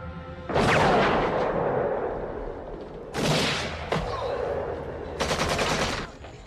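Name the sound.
gunfire exchange in the film Sniper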